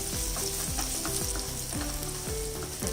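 Crushed garlic cloves sizzle steadily in hot oil in a pan for an Indian garlic methi dish, with a continuous close hiss and occasional scraping stirs, no voices.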